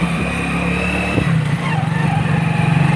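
A motorcycle engine hums along a road, rising briefly as it passes close by, over a steady mix of traffic noise.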